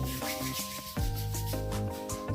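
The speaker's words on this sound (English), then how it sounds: "I'm gonna take this and I'm gonna rub it in my hands." Hands rub Vaseline between the palms with close, continuous soft friction and sliding strokes, with no talking.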